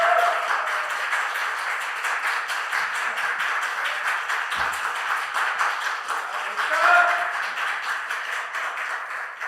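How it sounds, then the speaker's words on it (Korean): A church congregation at a young adults' worship service claps in welcome, a dense, even patter of hands that holds steady for several seconds and swells slightly near the end. "우리 나올 때 큰 박수로 함께 환영하겠습니다"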